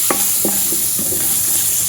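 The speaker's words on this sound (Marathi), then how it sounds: "यामध्ये आता आपल्याला घालायचे आहेत हे शेंगांचे तुकडे स्वच्छ धुवून घेतलेले हे चांगले परतवून घ्यायचे आहेत" Drumstick pieces being sautéed in a hot tempering in a pan, a spoon scraping and stirring in several quick strokes over a continuous bright sizzle, close and clear.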